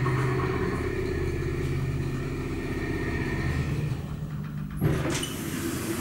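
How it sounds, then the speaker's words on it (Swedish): An ASEA Graham traction elevator motor, modified by KONE and sounding worse than usual, hums and drones steadily with a rough rumbling texture, then a sharp mechanical clunk near the end. "Lyssna på den där motorn."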